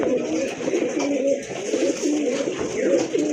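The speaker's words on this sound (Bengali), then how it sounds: "ছেড়ে দিয়ে ওর ডাকটা দেখেন" A Rajgolla pigeon coos close by in a repeated throaty warble, and faint human voices are heard in the background.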